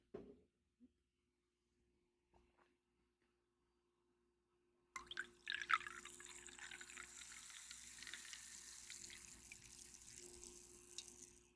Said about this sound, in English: The pouring of the drink was a nice sound.